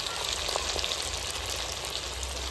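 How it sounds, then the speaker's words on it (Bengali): Chicken pieces frying in hot oil for chilli chicken give a steady, dense crackling sizzle at close range that holds evenly throughout, with no talk over it. "এই যে আমাদের চিলি চিকেনের জন্য চিকেনটা ফ্রাই করা হচ্ছে"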